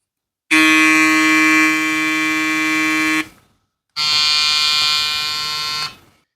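A Wmark NG 9213 electric hair trimmer with a metal back buzzes loudly and steadily, switched on for about three seconds, then off, then on again for two more seconds, up close.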